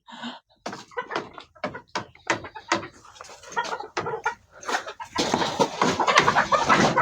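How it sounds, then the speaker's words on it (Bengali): Fayoumi chickens cluck in a rapid, irregular series of short calls nearby, building into a denser, noisier flurry toward the end. "এই যে দেখেন ফার্মি মুরগিগুলো দেখেন"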